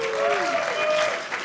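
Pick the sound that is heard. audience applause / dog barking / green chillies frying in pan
audience applause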